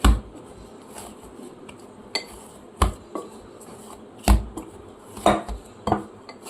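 Bhature dough being kneaded by hand in a bowl, heard as a series of sharp knocks and clatters against the bowl, several spaced slaps and thumps over a soft squishy background, close and moderately loud, with no talking.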